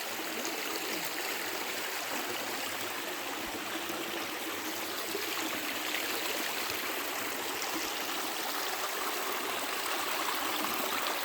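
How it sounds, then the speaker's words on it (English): Redwood forest creek water flowing steadily over rocks, a continuous broadband rush and trickle at a constant level throughout, with no voices. "I love the flow of the water."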